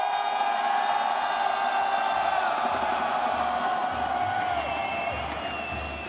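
A dense crowd at a watch party for the Valorant Masters Santiago grand final roars and shouts in a continuous loud wash that eases slightly toward the end.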